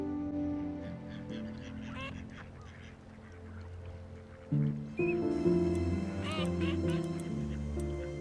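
Waterbirds at the Fier d'Ars nature reserve on the Île de Ré call in a steady chorus, geese honking and ducks quacking at a distance and overlapping, with soft narration running over them.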